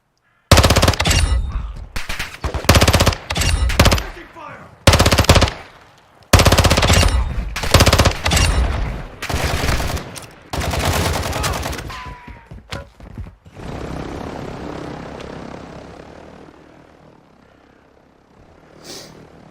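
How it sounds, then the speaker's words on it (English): Rapid bursts of automatic gunfire aimed at an attack helicopter in a DMZ extraction shooter game, loud repeated volleys over about twelve seconds, then a fading rumble of the aircraft and distant shots. "Okay, kom ons vat daai chopper aan dan."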